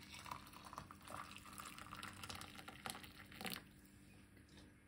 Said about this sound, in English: you want to get some boiling water from your kettle.